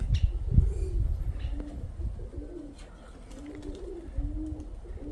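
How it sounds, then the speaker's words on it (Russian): Pigeons coo in low repeated phrases close by, with occasional soft rustling that may be wing flutter, over a steady outdoor background. "бо голуби в небі"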